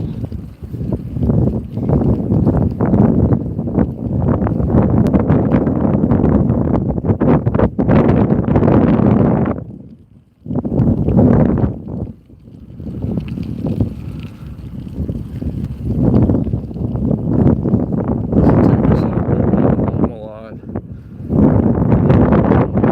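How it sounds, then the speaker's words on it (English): Strong wind roars over the microphone during a morning bike ride through downtown Las Vegas on an old cruiser, loud sustained gusts with a couple of brief lulls. "This wind really needs to quit though."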